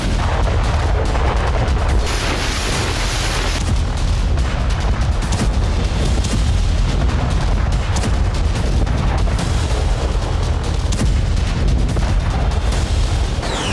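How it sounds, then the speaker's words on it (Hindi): Russian artillery bombardment in the Ukraine war: a dense, continuous barrage of booms and sharp blasts, loud and close, with heavy rumbling between the hits. "रूस ने पूरी आर्टिलरी खोल दी।"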